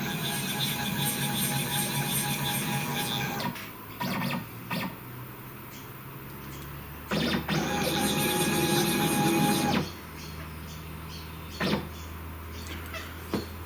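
A desktop CNC router driven by an SMC5-5-N-N offline controller moves its axes, its stepper motors whining in steady tonal runs that start and stop several times, with clicks between moves and the tone shifting as each axis travels.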